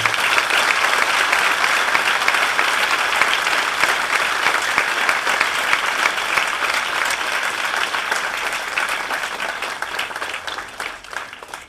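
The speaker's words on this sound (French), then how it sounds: "Je voudrais que nous puissions applaudir très fort les catéchistes." A church congregation at a first communion celebration in Dakar applauds loudly and continuously, a thick, even wash of clapping that fades only slightly toward the end.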